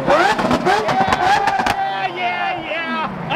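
A Lotus Emira sports car accelerates hard, its engine note rising through sharp gear changes at close range, with people talking and exclaiming over it.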